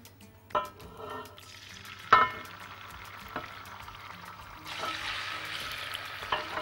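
Hot oil bubbling and crackling in a pan before chicken liver goes in, a steady frying hiss with a few sharp clinks and taps, growing a little louder toward the end.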